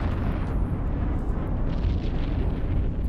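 Battleship weapon fire and explosions in the space game EVE Online, a dense, loud, continuous rumbling roar of blasts with no talk over it.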